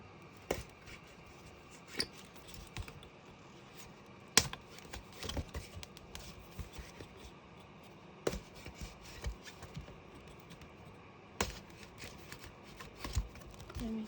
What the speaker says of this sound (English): Just going to put an awl through the holes of the bag so we know where they are.